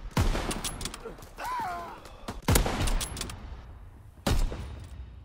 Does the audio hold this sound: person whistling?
no